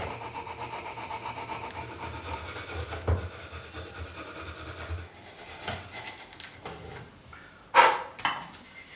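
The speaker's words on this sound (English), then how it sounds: "I sand down the holes using the previously mentioned variety of sandpaper grits." Bamboo shakuhachi finger holes on a Chōmei Ji-Nashi flute being hand-sanded with sandpaper of varied grits, giving a soft, close, intermittent rasping rub with a couple of sharper scrapes near the end, no talk.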